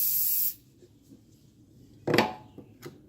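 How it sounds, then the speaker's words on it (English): Silicone spray is squirted into a part on a 1996-2002 Toyota Camry during a tune-up: one half-second hiss up close, then after a quiet pause a louder burst followed by two short spurts. "You can try spray some silicone in it."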